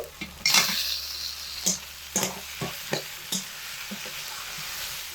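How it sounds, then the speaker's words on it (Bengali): Fish heads are stirred into a thick spice masala in a pan, giving a soft ongoing sizzle broken by sharp clinks and scrapes of a spatula against metal, close and fairly faint. "কষানো মশলার মধ্যে মাছের মাথাগুলো দিয়ে দিচ্ছি।"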